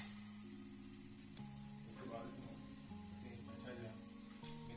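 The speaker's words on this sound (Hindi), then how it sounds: "लो फ्लेम ऑयल ते असां डोनट्स नूं विच फ्राई करांगे।" Donuts frying in oil over a low flame, a soft, faint continuous sizzle with light stirring noises and a few quiet clinks, no talking.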